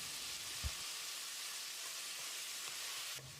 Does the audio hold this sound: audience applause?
no